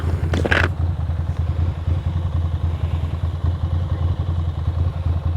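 A motorcycle engine idles steadily, with a low, loud, throbbing pulse that holds for the whole stretch, and a brief metallic clatter rings out near the start.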